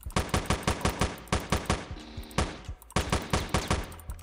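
Rhythmic gunfire from the top-down shooter Teleglitch, a steady series of loud, evenly spaced shots with a brief pause midway before the firing resumes.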